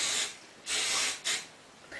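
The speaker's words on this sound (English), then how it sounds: "Grab your hairspray and then spray that in place." Hairspray hisses from an aerosol can onto styled, teased hair in three short bursts, the middle one longest, close and crisp with quiet gaps between.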